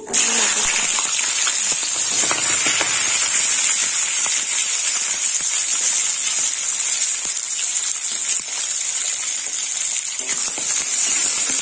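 Potatoes frying in a pan for a pumpkin flower curry give a steady, loud, close sizzle with a bright hiss that holds evenly throughout, with no talking.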